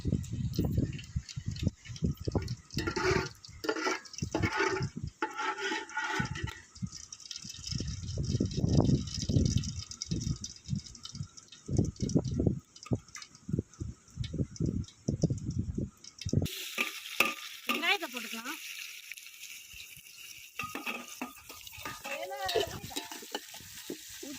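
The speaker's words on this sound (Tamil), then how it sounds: "வெங்காயம் வதங்கிறதுக்கு உப்பு போட்டுக்கலாம்" Onions sautéing for a chicken biryani gravy, with a spoon scraping and stirring through a steady sizzle in repeated close strokes; the frying grows brighter and hissier toward the end.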